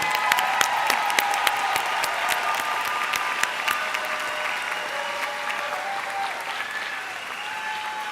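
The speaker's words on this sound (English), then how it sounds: "Yes, that's applause worthy." Steady, sustained applause fills a large hall at a university graduation ceremony as master's degree candidates stand, a broad wash of many hands clapping for over eight seconds with faint tonal background sounds.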